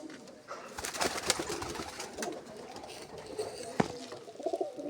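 Soft cooing of pigeons and young pigeons mixed with faint voices and some scuffling and knocking sounds nearby.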